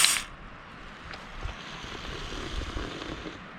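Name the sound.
beer being opened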